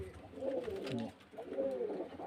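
Pigeons kept for sale at a home loft coo in repeated low, throaty phrases, with two swelling calls close by and a short pause between them.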